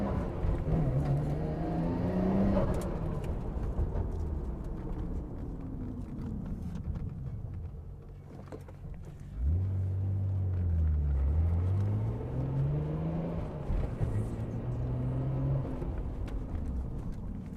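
A Nissan Skyline GT-R R34 V-Spec engine revs and rises through gears up close, drops to a low idle, then pulls away again with rising and falling engine tones while being maneuvered into its parking spot.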